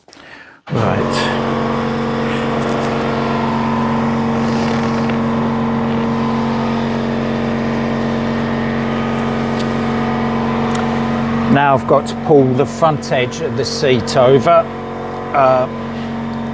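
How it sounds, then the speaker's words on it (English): Air compressor droning in a workshop where barstools are being recovered in leather, a loud steady motor hum with a strong low tone, then someone talks over it. "My apologies, the compressor's just kicked off."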